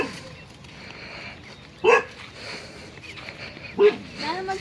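A dog gives two short, sharp barks about two seconds apart, fairly close, over a low steady background hum.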